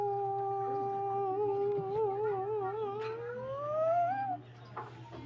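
A pet cat gives a long, drawn-out, wavering meow that bends up in pitch near the end, fairly close, over a steady low background hum and then a few faint shuffling sounds.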